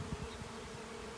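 Honeybee swarm of roughly five or six pounds of bees, a steady close droning buzz with no voices over it.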